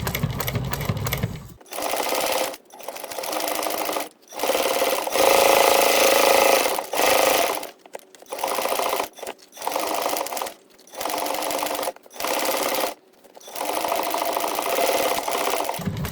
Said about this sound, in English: It is suggested to use a narrow foot for this process here of sewing the base.